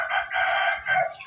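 A rooster kept by a family crows close by, a loud sustained call in two swelling phrases with no talk over it.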